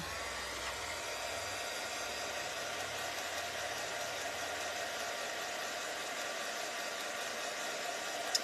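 A hair dryer blows steadily and close throughout, a constant broadband whoosh drying acrylic craft paint on a small wooden mini kitchen hutch kit, with no talking.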